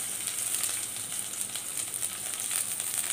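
Green chillies, garlic, onion and curry leaves frying with mustard seeds in hot oil: a continuous soft, hissing sizzle with a faint crackle, steady and close, no speech.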